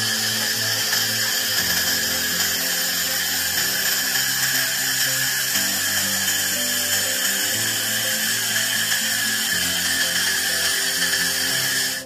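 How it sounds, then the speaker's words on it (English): A TEKMA laser welding machine set to 400W laser-cleans discolored welded seams, giving off a steady, loud high-pitched buzzing whine over a low machine hum that runs unbroken throughout, with no talking. "Laser cleaning of welded seams with stray colors"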